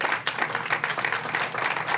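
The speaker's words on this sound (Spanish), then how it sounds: "Dele un fuerte aplauso al Señor." A church congregation in Bakersfield, California breaks into strong applause, a dense, even roar of many hands clapping together, filling the moment without speech.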